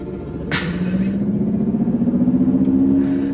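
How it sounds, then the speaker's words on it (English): A Mercedes-Benz EQS580 electric car plays its synthetic Vivid Flux driving sound, a steady hovering electronic hum that rises as the car pulls away, with a sharp brief onset near the start and a sustained tone after it. "It's basically like a UFO hovering, starting to hover."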